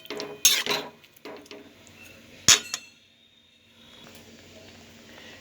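Spoon scraping and clinking against a pan while fish dopyaja with water is stirred, a few sharp metallic knocks and scrapes followed by a soft simmering hiss, close and alone.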